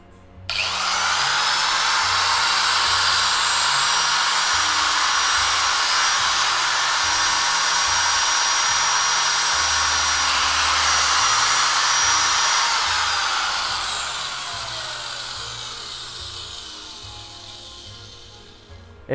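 A Japanese-made Makita power tool, shown alongside a 17mm chisel hammer, Bosch drill, variable-speed grinder and slide saw, runs on test with a loud, steady high-pitched whine for about twelve seconds, then spins down gradually.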